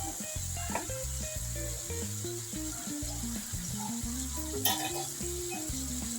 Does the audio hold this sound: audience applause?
no